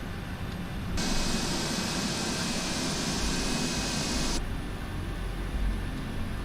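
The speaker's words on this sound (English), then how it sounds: "Listen to them engines." Boeing 747-8 jet engines spooling up on the ground at Heathrow, with engine four starting: a dense, steady roar that swells in abruptly, holds level for a few seconds, then falls back to a lower background hum.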